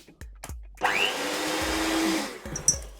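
An electric hand whisk whirs steadily for about two seconds as it mixes sugar for crinkle cookies, starting abruptly after a few light knocks and cutting off again near the end.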